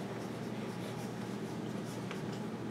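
Steady scratchy strokes of writing on a board continue without pause, close and moderately quiet, with no talking.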